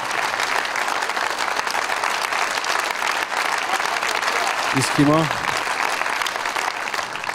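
A concert audience at the Arena Live show applauds in a loud, dense, sustained burst of clapping that fills the whole stretch, with a brief voice over it near the end.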